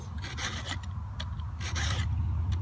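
A file sharpening a Stihl MS261 chainsaw chain gives short rasping strokes in a few bursts over a steady low hum, close by with no talk.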